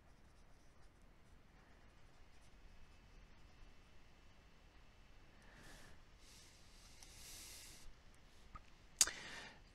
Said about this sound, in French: J'utilise ma petite gomme.